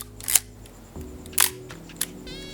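A Nikon F single-lens reflex film camera fires its shutter and advances the film, a few sharp mechanical clicks and a brief winding rasp against a quiet room hum.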